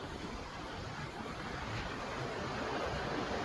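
Continuous sea waves wash and roar with a wind-blown, broadband rush, steady and moderately loud with no voices.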